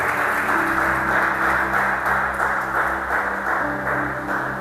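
A church congregation applauds together in sustained, dense clapping that fills the space at steady loudness, with a faint tonal hum underneath.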